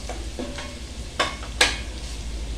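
Onions browning in hot oil in a pan for a mutton curry, a soft steady sizzle punctuated by two sharp stirring scrapes close by.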